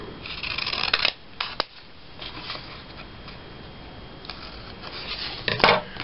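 Scissors trim a paper border strip for Christmas tags, making close, crisp cutting snips and paper rustles, busiest at the start and again near the end.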